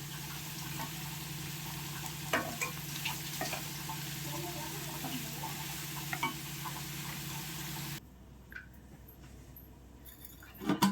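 Chopped green chillies, five or six of them, frying in a pan for a Telugu fish curry, with a steady hiss of oil throughout and occasional stirring clinks, before the sizzle abruptly drops away near the end.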